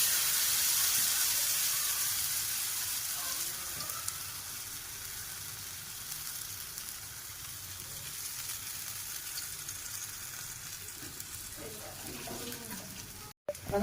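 Bread slices frying in an oiled pan give a steady, close sizzle that eases slightly over time. A few light clinks and scrapes come near the end.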